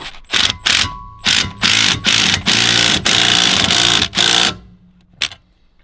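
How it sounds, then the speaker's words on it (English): A Milwaukee 3/8-inch impact wrench snugs down a camper wheel chock: a string of loud, close hammering bursts of about half a second each, running nearly continuous in the middle, then one final short blip after a pause. "I'm gonna be using my Milwaukee 3/8 impact to open this up and snug it down."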